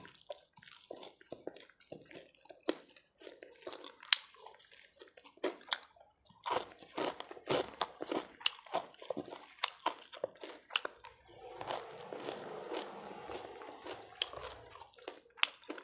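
Crunchy bites and chewing of fried pork intestine with garlic sound close and sharp, with irregular crisp cracks and wet mouth noises spread across the stretch, quieter pauses between, and no talk.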